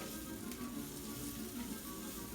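Rice toasting with onions and peppers in a pan for homemade Spanish rice, giving a steady, soft sizzle and frying crackle throughout, fairly close and alone.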